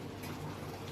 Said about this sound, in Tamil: தண்ணி பிடிச்சிட்டேன், தண்ணி நிறையுது